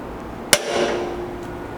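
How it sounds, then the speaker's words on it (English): A single sharp metallic strike of a hammer on a center punch, marking a hole on a steel bracket during an FJ Cruiser slider install, close and crisp with a brief ringing decay in an otherwise quiet space. "mark it with a center punch"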